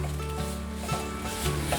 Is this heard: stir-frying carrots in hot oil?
yes